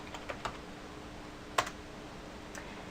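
A handful of sparse, quiet keystrokes on a computer keyboard while filling in a web address on an events calendar form, with soft isolated clicks spread over a few seconds and no speech.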